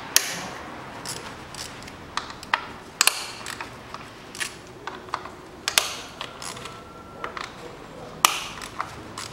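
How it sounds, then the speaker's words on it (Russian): A 10 mm socket ratchet unscrews the ignition coil bolts on a 2012 Nissan Qashqai 2.0, giving close, irregular bursts of sharp clicks and metallic taps with short pauses between. "Откручиваем болты, головка на 10."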